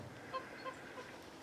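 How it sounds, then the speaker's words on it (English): A few faint, short honking bird calls spaced apart, distant over a quiet outdoor background on a farm in Aydin Province, Turkey. "mainly you just hear is birds and chickens and cattle"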